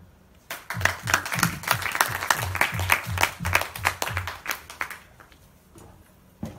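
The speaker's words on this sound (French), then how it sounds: "Je vous laisse applaudir le premier candidat, Sullivan." A studio audience claps for the first contestant on a French quiz show, a steady run of loud, fairly rhythmic claps that fades out near the end, with no talking.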